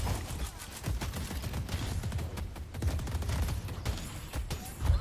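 Rapid turret gunfire in the mech combat game Mecha Break, a dense sustained barrage of bursts with heavy low thumps and occasional louder impacts, steady throughout with no voices.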